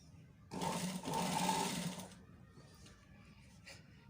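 A sewing machine stitches down a folded high neck collar on a shirt, a steady whirring run of about a second and a half that stops abruptly, followed by quiet handling noises.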